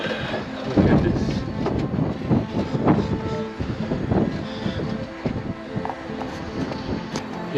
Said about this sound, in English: And it's really windy here.